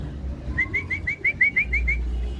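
Racing pigeons landing at a loft, with a pigeon giving a close run of about nine quick, evenly spaced coos over low background rumble.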